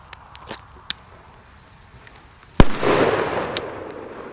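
A Big Bang 2G Polenböller firecracker bursts once with a sharp, very loud crack, followed by a lingering rumbling echo; a few faint pops and clicks precede it.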